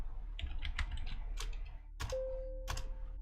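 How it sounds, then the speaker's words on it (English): Rapid, uneven keystrokes tap out a short command on a computer terminal keyboard in the video game When Shadows Ate The Light, close and crisp, with a sustained electronic tone starting partway through. "Maybe I just type unlock pods."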